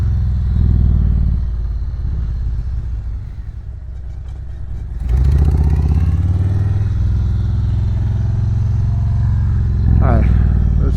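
A Harley Davidson Touring motorcycle idles with a deep, loud, steady rumble, then rises in volume as it pulls away on a ride.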